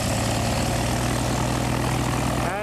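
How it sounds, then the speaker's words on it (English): A Piper Cherokee 150 light aircraft takes off on a first solo flight, its propeller engine roaring loud and steady throughout, with a slight drop in the drone at the very end. "He's now departing on his first solo flight."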